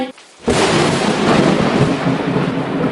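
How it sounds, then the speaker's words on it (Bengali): A thunderstorm breaks into a loud, sustained roar of thunder and heavy rain after a brief quieter moment, filling the rest of the stretch with dense, continuous noise. "দেখো বাইরে কত ঝড় বৃষ্টি হচ্ছে"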